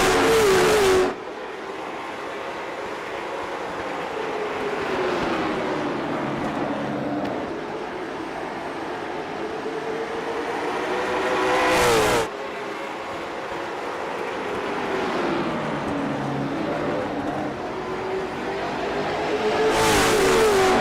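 Race cars lapping Martinsville Speedway, engines rising and falling as they pass, with a loud close pass by at the start, another midway and another at the end, over a steady drone of the field.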